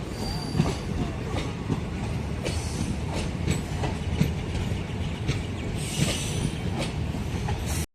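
Chemmozhi Express passenger train running on rails between Coimbatore and Mannargudi, giving a steady close rumble of wheels and carriages that holds unbroken and cuts off abruptly at the end.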